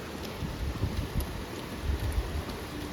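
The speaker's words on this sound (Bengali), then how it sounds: "হাওয়াটা দিচ্ছে, বৃষ্টিও যে হচ্ছে না তা না, কন্টিনিউয়াসলি বৃষ্টিও হয়ে যাচ্ছে" Wind gusts and rain outside make a constant broad hiss with low rumbling surges that swell and fade every second or so, with no voices.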